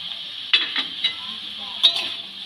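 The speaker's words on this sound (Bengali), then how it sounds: "সেই কুচানো কাঁচা লঙ্কাগুলো দিয়ে দিলাম।" Chopped green chillies go into a frying pan for a vegetable spring roll filling, producing a steady thin sizzle punctuated by a few sharp utensil clinks and stirring knocks nearby.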